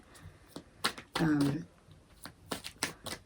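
Quick bursts of card shuffling, riffled a few times in short bursts, close and fairly crisp, with a brief louder shuffle in the middle.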